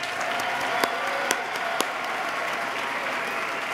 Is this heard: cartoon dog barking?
no